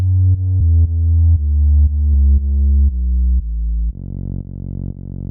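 Serum synth patch built around a saw-wave sub bass, playing repeated low, buzzy notes in a steady rhythm, then shifting to a softer, sustained tone near the end.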